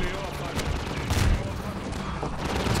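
Rapid bursts of gunfire in the video game Half-Life 2 crackle and boom in quick succession, loud and close, with a low rumbling thud midway.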